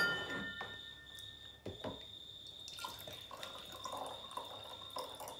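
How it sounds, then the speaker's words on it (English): Water poured from a container into a glass, a faint, thin trickling stream with a few soft drips and splashes, close by in a quiet indoor space without talk. "we're going to pour a little bit of water into each glass"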